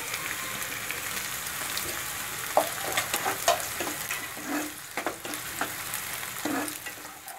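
Onion frying in a pan for mustard greens saag gives a continuous close sizzle, joined partway through by a series of stirring scrapes and soft knocks of a spoon against the pan.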